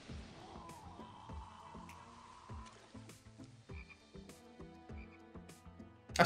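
A frog croaks in an anime episode, a series of low, rhythmic croaks repeating over several seconds, fairly quiet and mixed with soft soundtrack tones.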